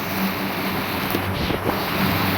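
A coast guard boat out at sea on patrol, with a steady wash of wind and water noise and a low engine rumble running throughout.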